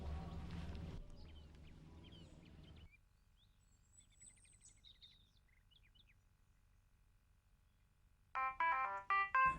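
A telephone ringtone from calling a hotline number sounds as a few loud, close melodic bursts near the end, after a quiet stretch with faint background sounds.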